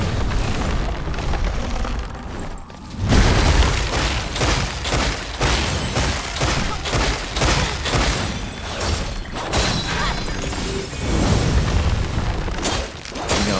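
A thrown bomb detonates in the action game Wuchang: Fallen Feathers, a heavy booming blast followed by sustained rumbling, crackling debris and ongoing combat noise, loud and dense throughout.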